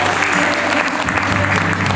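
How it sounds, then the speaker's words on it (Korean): Wedding guests applaud during a ring exchange, a loud, dense, sustained burst of clapping close by, with faint voices underneath. "박수 부탁드리겠습니다."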